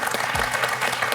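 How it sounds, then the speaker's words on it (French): Studio audience on a French TV quiz show breaking into loud, close applause, a dense continuous patter of clapping throughout. "On peut l'applaudir"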